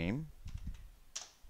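Keys typed on a computer keyboard while writing Python code, a short burst of several quick close clicks following a brief moment of speech.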